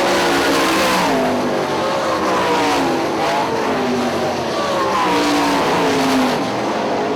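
Sprint cars racing around Hartford Speedway Park, a steady loud engine roar with rising and falling pitch as the field passes in single file, continuous throughout with no talk.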